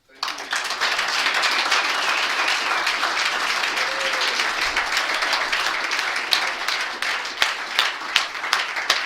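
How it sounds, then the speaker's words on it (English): An audience applauds a speaker at the close of an evening talk: sustained, even clapping from a moderate-sized crowd, with a few sharper individual claps standing out near the end. "let's give another round of applause for our speaker, Josh."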